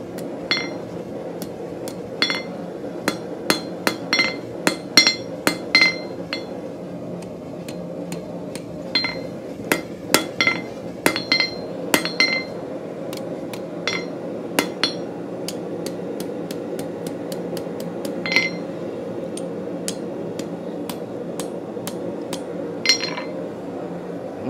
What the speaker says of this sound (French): Toujours avec le marteau.